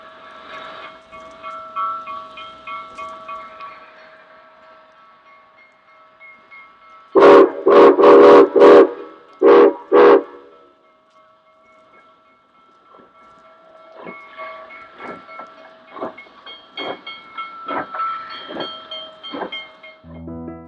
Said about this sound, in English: 2 photo run-bys were made as the train arrived into Tracy, showing it arriving into the yard and then coming up to the water tower